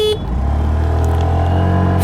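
A 125cc scooter horn gives one short, loud honk at the start, then the scooter's steady engine hum carries on alone.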